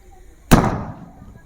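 A homemade carbide gun fires one sharp, loud bang during Diwali celebrations, its report decaying over about a second of ringing echo.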